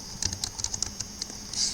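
Quick, crisp keystrokes on a computer keyboard, a short irregular run of taps close by with a brief pause before a final press.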